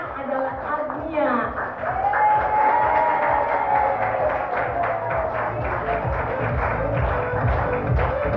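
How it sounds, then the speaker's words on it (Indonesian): An audience at an Herbalife seminar in Bandung claps steadily for several seconds while a presenter's voice keeps talking over the applause. "teman-teman bisa tepuk tangan"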